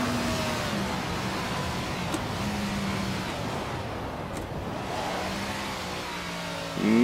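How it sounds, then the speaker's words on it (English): Engine of a vintage Grand Prix racing car in Assetto Corsa, droning steadily, dipping as a gear is missed, then rising sharply into a loud rev at the end, with no voices. "Missed clutch there, so I missed a gear."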